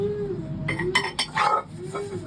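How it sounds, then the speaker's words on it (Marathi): Dishes and utensils clink and clatter in a few quick bursts while water runs, with a low steady hum underneath. "उरल्या सुरलेल्या पाण्यातून पूजा आता भांडे धुवून घेते"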